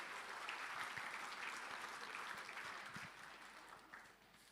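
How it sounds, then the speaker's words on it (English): Audience clapping at a sports awards ceremony, a steady, moderately close round of applause that gradually thins and fades over a few seconds. "So another round of applause, please, for Pete Brown."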